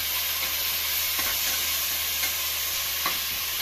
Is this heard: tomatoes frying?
yes